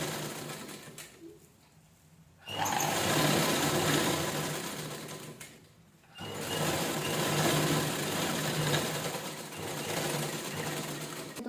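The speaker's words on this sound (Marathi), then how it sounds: "आता ह्याला पण जसं आपण इकडे केले तसं ह्याला पण दाब शिलाई देऊन घेऊया व्यवस्थित" An electric sewing machine stitches old saree fabric, running in two long steady bursts of buzzing whir, close and fairly loud, with quiet pauses between them.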